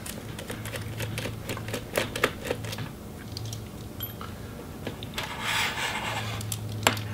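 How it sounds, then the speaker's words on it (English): Small tools work loose the last two screws on a Razer Blade Stealth RZ09 laptop during disassembly, giving a string of close, quiet clicks, scrapes and rubbing taps over about seven seconds with no speech. "Then remove those last two screws."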